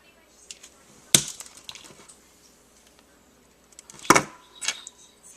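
A crimping tool trims the end of a Cat5 network cable with two sharp, close snips a few seconds apart. Faint plastic clicks and rustling handling noises fill the gaps between the cuts.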